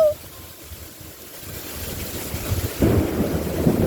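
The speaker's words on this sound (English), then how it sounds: "I think that's hail. It's dropping little chunks of ice from the sky." Hail falling during a thunderstorm in Florida, a soft broadband hiss that swells noticeably louder partway through and stays dense to the end.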